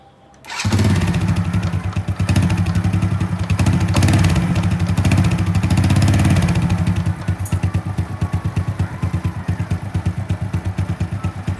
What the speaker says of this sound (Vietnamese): giờ mình sẽ nổ máy lên và đo xem đã có điện chưa.